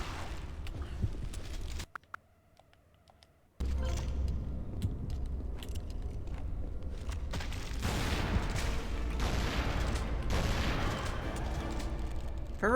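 Repeated gunfire from the Tomb Raider Anniversary video game, a steady dense barrage running almost throughout apart from a brief quiet gap near the start, loud and close with mechanical game noise mixed in.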